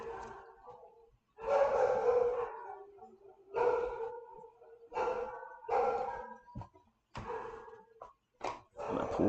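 Dogs barking loudly in repeated bursts, several voices overlapping with short pauses between volleys, close by.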